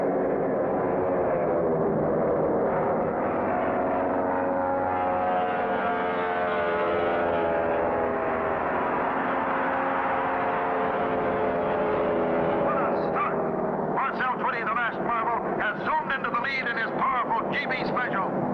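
Cartoon propeller plane engines starting up for an air race: a steady droning buzz that swells and holds, then turns rougher and choppier near the end, loud and continuous.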